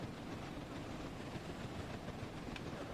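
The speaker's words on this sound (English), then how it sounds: "there we go, there's a train there" A train rumbles past in Train Sim World 4 on the East Coast Main Line, a steady broadband roar with faint clickety-clack, fairly quiet and unbroken for the whole stretch.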